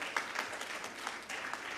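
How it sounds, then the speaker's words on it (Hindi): Brief burst of audience clapping in an auditorium, a scattered patter of many hands at moderate distance, fairly soft and lasting under two seconds. "हमारे वियतनाम से आए सभी मित्रों के लिए भी एक बार तालियां बजा दीजिए"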